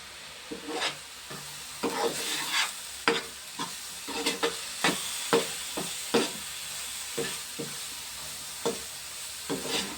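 Masala-coated food frying in a pan is stirred in repeated sharp scraping strokes over a soft sizzle, close and fairly loud, with no talk.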